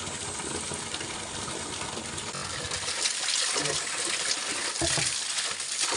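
Cold water gushing steadily from a mountain spring spout in an Uttarakhand village as someone washes hands, face and feet, a continuous close splashing rush with brief splashy bumps and no speech.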